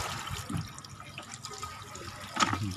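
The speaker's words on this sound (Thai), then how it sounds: "นี่น้ำออกน้ำไหลแค่นี้หนอผมเปิดแค่นี้นี่วะ" Weak, thin water flow from a tap opened only slightly under a seaside house, a soft continuous trickle with faint splashes and a brief drip-like spike near the end.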